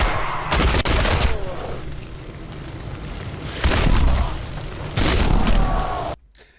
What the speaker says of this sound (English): like a double barrel 12 gauge shotgun in an interior room like this, that would like blow your eardrums out